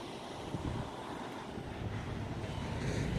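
Steady gusting wind buffets the microphone outdoors during a test flight of a Sanrock / UDI U65 Flying Hero drone, a continuous low rumble that holds the same level and swells slightly toward the end.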